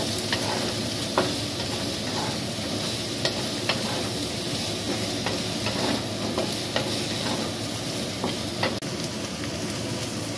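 Pre-fried potatoes sizzling in a pan of beef curry, a continuous loud fry broken by repeated short scrapes and clacks of stirring, with no voices.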